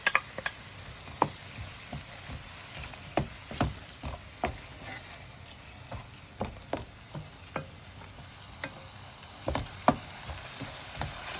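Paella with tomato paste gives a steady sizzle in a frying pan, and scattered ticks and taps come from a spoon stirring it, fairly close with no talking.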